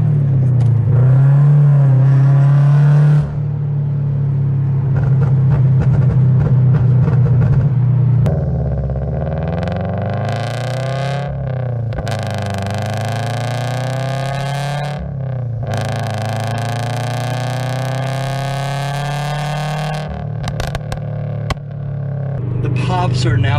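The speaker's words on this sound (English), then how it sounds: "pipes are now so loud for my car" Subaru BRZ with a loud aftermarket exhaust on the road, a heavy droning rumble that rises and falls through repeated accelerations and gear changes, with a voice talking over parts of it.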